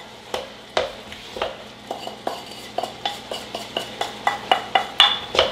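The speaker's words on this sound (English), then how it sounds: "Stir that up really good, get it all in there." Metal utensil scraping and tapping against a pan while Pad Thai sauce is stirred in, a steady series of sharp clinks and scrapes over a faint background hum.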